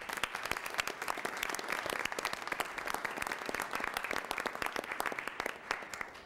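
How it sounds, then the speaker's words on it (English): Dense, steady applause from a city council meeting audience honoring a team of competitors, a continuous crackle of many hands clapping at close range throughout. "give them a big round of applause"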